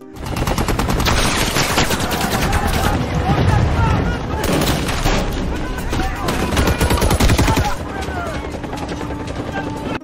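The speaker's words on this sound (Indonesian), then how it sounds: "dua helikopter penyelamat datang memicu baku tembak yang sangat sengit" Dense, sustained gunfire in a film scene with rescue helicopters, rapid bursts throughout, loud and continuous, mixed with heavy rumbling and a busy action-scene backdrop.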